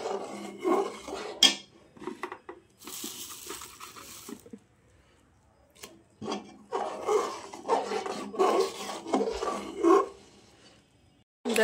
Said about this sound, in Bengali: এবার আমি অল্প অল্প করে গুড়টা পায়েসে দিয়ে দেবো। আর আস্তে আস্তে নাড়বো।